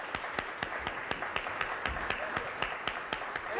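A television studio audience claps for jazz trumpeter Maynard Ferguson on a morning show, a small, fairly quiet crowd giving evenly paced, distinct claps without cheering.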